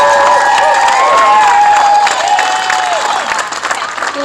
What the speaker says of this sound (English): Let's give him a big round of applause again